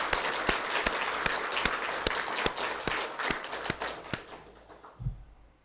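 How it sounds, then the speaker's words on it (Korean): A church congregation claps in unison during an Easter resurrection sermon, a run of sharp, evenly spaced beats that slows and fades out near the end. "우리 부활하신 주님에게 우리 박수로 한번 영광을 돌리겠습니다"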